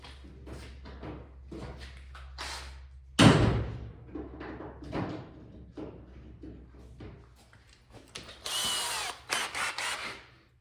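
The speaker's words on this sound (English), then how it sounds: "I'm going to grab a little drill bit and drill out these rivets now." A power drill whirs in short bursts drilling out metal rivets on an arcade machine control panel, with a heavy thud partway through and a louder, harsher stretch of drilling near the end.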